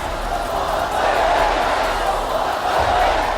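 Large crowd of Hezbollah supporters gathered in Beirut, Lebanon, a steady roar of many voices with rising swells of shouting, continuous and fairly distant.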